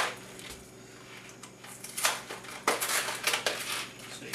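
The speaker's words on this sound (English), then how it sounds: "So you just sprinkle some of those Reese's Pieces on there." Reese's Pieces candies sprinkled onto an ice cream sundae, quiet scattered clicks and small rattling taps in a few bursts, close and faint.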